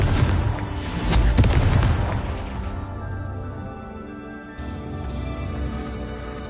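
A Confringo spell explosion in Hogwarts Legacy, heard as a sharp burst with a rumbling boom that peaks and then slowly decays into a lingering low roll, loud and close, with no talk.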